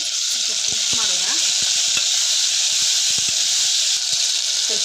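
Onion, green chilli chutney, mint and tomato sizzling loudly in a pan for tomato bath, a dense bright hiss with scattered spatula scrapes and knocks as everything is mixed, close and with no speech.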